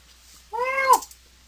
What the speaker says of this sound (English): Yeah, you hear the cat.